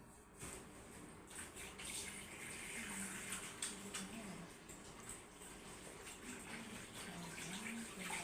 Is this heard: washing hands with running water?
yes